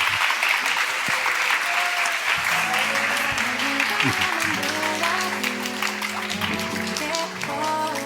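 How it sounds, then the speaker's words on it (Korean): A church congregation gives sustained applause of thanks as the senior pastor comes up to a youth service, loud and continuous, with music and a voice rising beneath it. "우리 원로 목사님 올라오실 때 여러분 감사의 박수 드리겠습니다"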